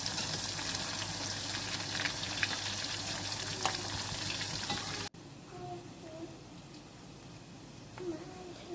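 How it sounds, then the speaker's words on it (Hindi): Okra (bhindi) fries over low-to-medium heat in a pan, giving a steady, even sizzle with faint pops. The sizzle drops to a quieter level partway through and continues softly. "भिंडी को लो टू मीडियम आंच पे आपने फ्राई करना है ताकि वो कुरकुरी हो जाए"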